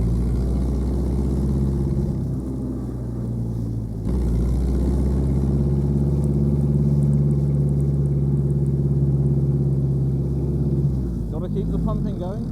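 A Ford Model T engine runs steadily during a race, giving a loud, continuous low drone that swells slightly as it revs, with voices faintly beneath it.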